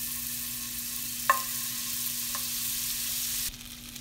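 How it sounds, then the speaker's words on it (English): Slabs of butter melt in a hot pan beside a resting burger, giving a steady, even sizzle close by with a couple of light clinks, until the hiss suddenly drops near the end; no one speaks. "In the meantime, add a few slabs of butter."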